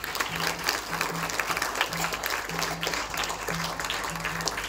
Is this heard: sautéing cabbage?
no